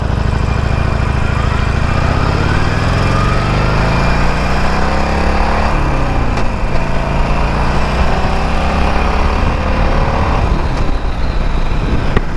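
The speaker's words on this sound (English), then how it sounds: "Yo, this Harley's quick, bro." A Harley-Davidson motorcycle engine drones loud and close while riding, its pitch sweeping up and down as the rider works through the throttle, with constant wind rush and no voices.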